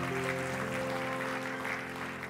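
A church congregation claps for Jesus during a Sunday service, a steady wash of hands under sustained organ-like tones from the band, moderately loud and even throughout.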